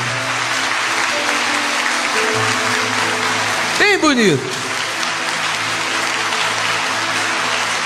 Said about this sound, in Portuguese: Dê uma fortíssima salva de palmas para o Senhor Jesus